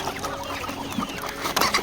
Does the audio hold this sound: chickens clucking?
yes